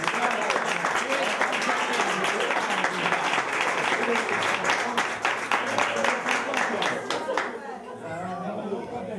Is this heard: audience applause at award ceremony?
yes